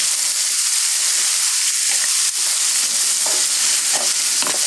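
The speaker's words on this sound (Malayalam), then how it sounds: "ഉള്ളി ഒന്ന് വഴറ്റിയെടുക്കാൻ പോവാണ്." Onions sauté in the oil left over from frying mackerel, a loud continuous sizzle broken by occasional scraping stirs of a spoon in the pan.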